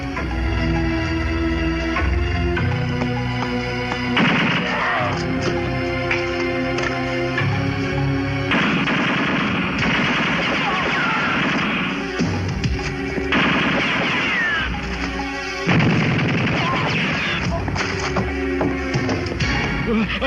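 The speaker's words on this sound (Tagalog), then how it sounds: "Nagmumula ang putok sa likod ng filing cabinet." Rapid gunfire cracks from behind a filing cabinet in a Filipino action movie scene, sustained bursts layered over a dense, loud score and effects mix with no clear pauses.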